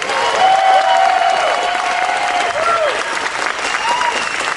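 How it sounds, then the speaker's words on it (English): A comic convention crowd at 2 Rivers Comic Con 2025 gives sustained applause, dense clapping with a few cheers and voices mixed in, holding steady before tapering slightly near the end. "another round of applause for your Justice League"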